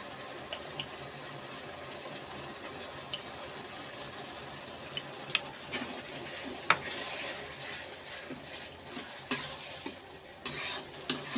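Onion paste and spices being stirred as they fry in a pan, a soft steady sizzle under intermittent spoon scrapes and clinks that grow busier toward the end.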